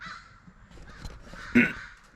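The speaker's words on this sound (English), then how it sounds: "Hear the crows out there." A crow caws once or twice in the distance over low background rumble, with one louder, sharper call near the end.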